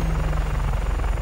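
Helicopter in the video game Just Cause 3, a loud steady rotor drone with a fast pulsing chop and engine whine, continuous and close throughout.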